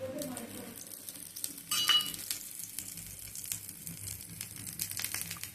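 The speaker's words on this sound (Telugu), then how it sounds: "కొంచెం పల్చగా చేసుకొని ఇట్లా పెసరట్టు వేసి ఇట్లా స్ప్రెడ్ చేస్తున్నాను" Thin pesarattu dosa batter made from green gram sizzles on a hot pan, a steady close crackle with a louder burst of frying as the batter is spread, and no voices.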